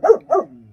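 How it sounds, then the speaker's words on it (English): A happy dog gives two quick, close barks or yips, loud and short, followed by a brief fading tail with no voices over it. "this is a happy dog, isn't it?"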